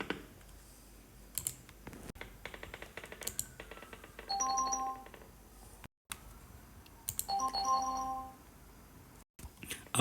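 Windows Live Messenger notification chime on a Windows 11 computer, two short bright tonal alerts a few seconds apart amid soft computer keyboard typing and clicks, fairly quiet and close.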